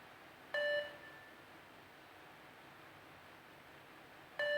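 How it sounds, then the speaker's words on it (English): Two short, clean electronic beeps from a fitness bleep test ring out nearly four seconds apart over a quiet, faintly hissing background, with no talking. "There's another beep."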